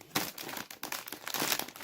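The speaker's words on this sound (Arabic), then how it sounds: "ونفتح الكيس الخامس" A crinkly plastic snack bag of Lulu puffs is pulled open, giving a close run of loud, irregular crackles and crumples.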